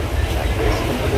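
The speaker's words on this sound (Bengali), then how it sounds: "তো এখানে ট্রেনটা ছেড়েছে" A passenger train pulls away from a station and rolls along the rails, giving a steady low rumble with faint clatter throughout, heard from inside a carriage.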